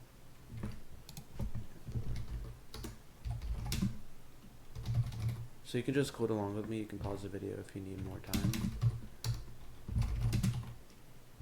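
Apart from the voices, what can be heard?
typing on a membrane computer keyboard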